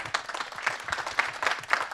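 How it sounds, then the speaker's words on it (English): An audience at a small business and entrepreneurship policy forum applauds a panel, a loud, uneven patter of many hands clapping with sharp individual claps standing out. "please join me in a round of applause for this great panel"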